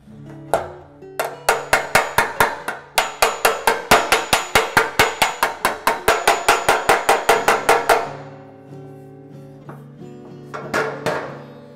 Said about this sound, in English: I want to hit the hammer on the dolly basically to get the last little bit of damage out